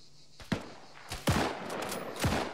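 Gunfire in ARMA 3, sharp reports cracking out in a quick series of three or four shots spaced about a second apart, medium-distance and echoing over steady background ambience, no talking.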